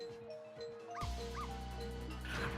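Two quick dog yips from the video game Ghost Trick: Phantom Detective sound over game music that swells louder midway through the short stretch.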